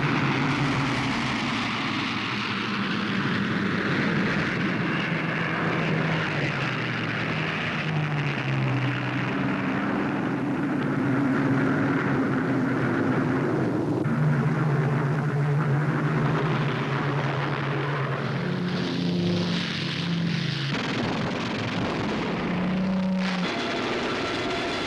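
WWII fighter and bomber aircraft engines drone steadily for the whole stretch, a loud continuous roar with slowly shifting tones as several planes seem to pass, with no talking over it.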